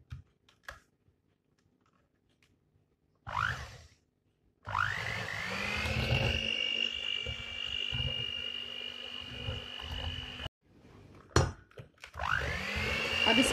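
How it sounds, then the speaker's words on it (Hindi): An electric beater whips Haleeb whipped cream in a bowl, a steady close motor whine with a rising pitch at startup, running for several seconds, stopping, then starting again. "क्रीम को अच्छी तरह से व्हिप कर लेंगे।"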